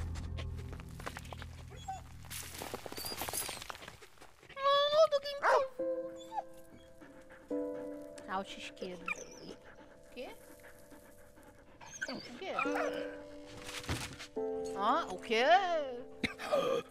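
Dog in the video game Valiant Hearts panting, whimpering and yipping in several short bursts alongside game music, with a person talking over it throughout.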